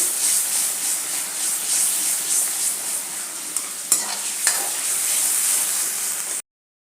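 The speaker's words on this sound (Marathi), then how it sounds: "आता हे दोन ते तीन मिनिट मी हे परतून घेतलं आहे" Tomato masala sautés in hot oil in a pan with a continuous, loud, close sizzle. A few stirring clinks come near the end, then the sound cuts off abruptly, with no voices.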